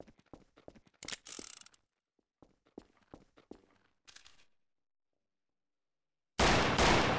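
Gunshots in Garry's Mod Trouble in Terrorist Town: scattered sharp cracks and clicks with footsteps, then a silent stretch and a sudden loud burst of noisy gunfire at the end.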